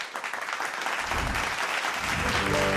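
An audience at a riverside music festival in Varanasi applauds to welcome a performer, a brief, full wash of clapping that holds steady, with a faint musical tone entering at the end.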